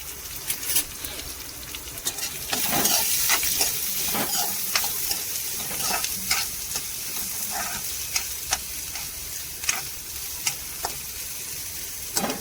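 Onion dropped into hot oil already holding garlic and cumin, frying for a methi bhaji: steady close sizzle with repeated stirring scrapes and utensil clicks, no talk.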